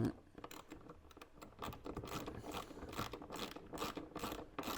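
Ratchet fitted with a Torx T45 bit tightening roof rack rail bolts on a new Land Rover Defender 90, giving a steady run of close, rapid clicking and scraping pawl ticks.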